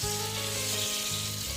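A beaten egg mixture with stuffing is poured into a hot pan for a Pondicherry French omelette and sizzles with a steady, close frying hiss throughout, with no voices.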